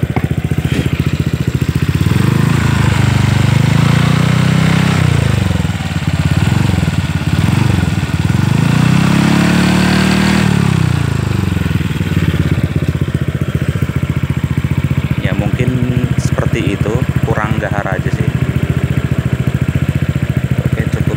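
A 2018 Honda PCX scooter fitted with an R9 Misano aftermarket exhaust, recorded up close as it idles and is revved in repeated rising and falling surges, loud and continuous throughout.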